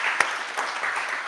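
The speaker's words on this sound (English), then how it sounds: "I think we should applaud our candidates for coming out." An audience at a mayoral and ward election candidates forum in Cambridge claps for the candidates, a brief burst of dense, steady applause filling the room.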